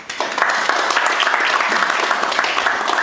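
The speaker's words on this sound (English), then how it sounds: "Give them a round of applause." A seminar audience gives a round of applause to the professional speakers at a small-business social media and websites session, loud continuous clapping from many hands throughout.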